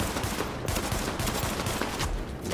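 Gunfire in a shooting video game: a dense, continuous clatter of shots with no clear gaps for a few seconds, moderately loud, with no talk.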